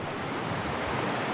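Deep, fast-flowing creek water in North Idaho rushes in a continuous, broad roaring wash, steady and close throughout with no pauses and no voices.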